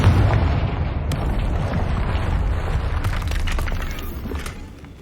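A Confringo fire spell bursting in Hogwarts Legacy, a loud sustained booming blast with crackling debris that holds steady for several seconds before tapering off, with no talk over it.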